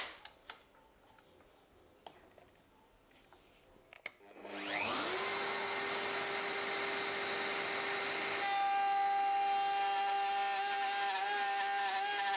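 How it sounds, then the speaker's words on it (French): A small wood router whirs up to full speed with a rising whine and then cuts steadily and loudly, its tone shifting slightly as it machines the wood, after a few quiet clicks of setup. "je vais prendre ma petite défonceuse, elle va venir usiner ici, elle va préparer le travail"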